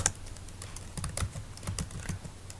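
Quiet, close computer keyboard typing, a steady run of light key clicks with a few firmer taps, as a code comment is keyed in with no talking.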